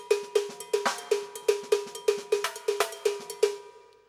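Afro-Cuban cascara pattern struck on a drum set: sharp, bright clicks in a steady syncopated rhythm, close and alone, each hit ringing briefly before the next.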